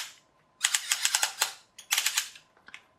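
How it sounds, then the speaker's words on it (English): A toy figure's arms click as they are moved, giving rapid bursts of sharp plastic ratcheting clicks in two close runs with a pause between them and a few stray clicks after, heard alone and close up. "The arms move with a nice clicky noise"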